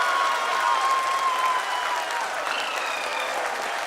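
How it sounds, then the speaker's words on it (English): A crowd applauds the Chandrayaan 3 lunar lander's soft landing on the Moon's southern pole, with steady, dense clapping sustained throughout and a faint tone running beneath it. "People are applauding."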